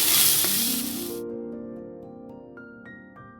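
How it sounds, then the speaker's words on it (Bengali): Bottle gourd peels with turmeric and salt hit hot oil in a short, loud burst of sizzling that cuts off after about a second, followed by faint ringing tones that slowly fade. "এবার আমি এটাকে ভেজে নেব।"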